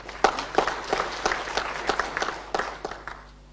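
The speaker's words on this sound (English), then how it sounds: "let's give a better round of applause" Applause from an audience at a government strategy unveiling at the State Department for Parliamentary Affairs, a steady clatter of many hands with sharper bursts over about three and a half seconds before it thins out.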